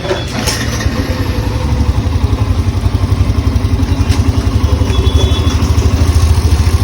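A Hero Xtreme 125R motorcycle engine runs in gear up close, a loud, rapid, evenly pulsing thrum with a light mechanical clatter on top, no voices.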